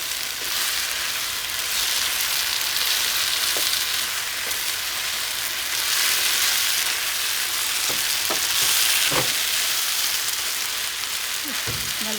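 Green chili and garlic sizzle in hot oil while being stir-fried for gobi manchurian, a loud continuous frying hiss with occasional clinks and scrapes of the stirring utensil.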